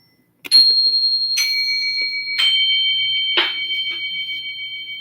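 Four bell strikes ring out one after another at an even pace, each bright tone lingering and overlapping the next.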